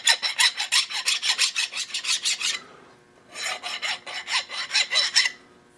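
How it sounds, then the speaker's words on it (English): A file rasps across the ends of a freshly milled metal part in quick, even strokes, about fourteen in a row, then a short pause and another run of about nine, close and clear. "I'm deburring the ends of it."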